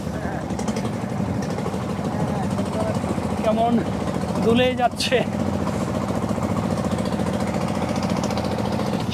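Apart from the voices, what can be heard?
small trawler boat engine on the Padma River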